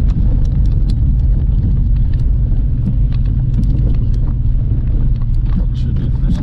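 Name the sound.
car engine revving high in first gear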